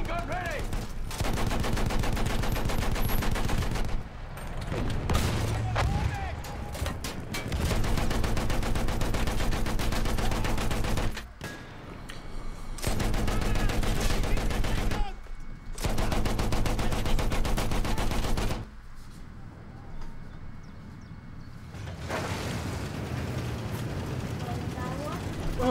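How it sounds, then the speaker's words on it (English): Machine gun fire in the video game Battlefield 1, several long, loud sustained bursts broken by short pauses, with voices heard between the volleys. "machine gun ready!"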